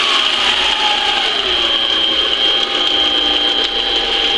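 A Harbor Freight 7x10 mini lathe (93212) with its lead screw gearing engaged, giving a steady, close mechanical whir and fine gear ratcheting that runs evenly and continuously with no speech.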